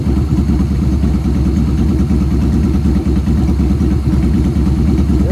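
A Yamaha Bolt motorcycle fitted with a ForceWinder full exhaust system rumbles loud and close in a steady, unbroken idle with a deep, even throb and no talk over it.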